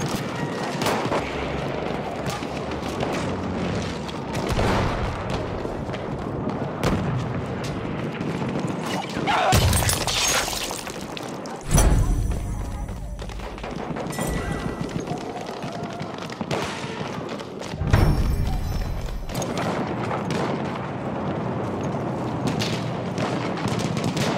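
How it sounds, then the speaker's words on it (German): Enemy gunfire and explosions in a war video game, with bursts of shots and a couple of heavy booms rising out of a busy, rumbling battle bed across the stretch. "Das ist ein feindlicher Schuss, Soldat."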